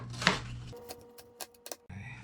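A knife dices green pepper on a cutting board in a home kitchen, giving a few sparse, light chopping taps, then a brief pause before faint rustling resumes.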